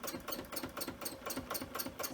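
A sewing machine with a stitch regulator runs steadily during free motion quilting of small Christmas tree wall hangings, a quick even mechanical chatter of needle strokes at a constant pace, fairly quiet and close.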